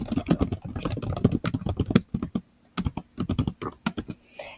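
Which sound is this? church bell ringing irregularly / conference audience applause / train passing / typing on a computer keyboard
typing on a computer keyboard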